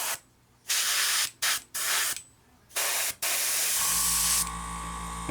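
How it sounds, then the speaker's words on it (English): An airbrush sprays gray paint onto a 1/72 scale Bandai X-wing model in close, loud hissing bursts of varying length separated by short silences, ending in a longer steady spray. "watching somebody airbrush paint on"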